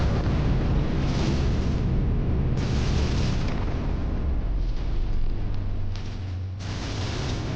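Continuous heavy explosive rumble of missiles striking a spaceship's tail in Rebel Galaxy Outlaw, a dense roaring barrage with repeated booming surges that never lets up.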